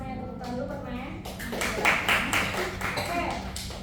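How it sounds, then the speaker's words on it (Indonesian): A classroom of students bursts into applause after a question, clapping picking up midway and continuing in dense, fairly close bursts while voices speak over it. "terima kasih banyak tepuk tangan dulu pertanyaan"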